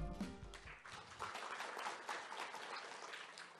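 An audience at a forestry outlook opening ceremony greets a speaker with warm applause, starting under a fading musical tone and settling into steady, moderately quiet clapping.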